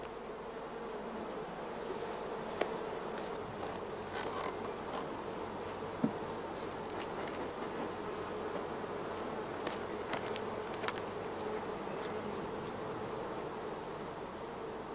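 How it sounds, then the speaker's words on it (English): Honeybees in a queen-rearing hive give a steady, dense buzzing drone that holds throughout, with a few faint clicks and knocks scattered through it; no voices. "Here the nurse bees provide the young larvae with large quantities of royal jelly."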